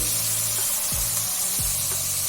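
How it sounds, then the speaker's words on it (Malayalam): Garlic, green chilli, ginger and curry leaves sautéing in a pan for egg curry, a loud, steady close sizzle with a few stirring scrapes. "കുറച്ച് കറിവേപ്പില, ഒരു തക്കാളി ഇതെല്ലാം ഇടുക. ഇത് നല്ലോണം വാട്ടുക."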